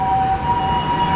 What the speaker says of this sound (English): Second of all, there's constantly sirens going off.